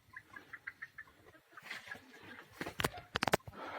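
A rooster calls nearby, with a quick run of sharp, loud clucks near the end after softer chirping earlier.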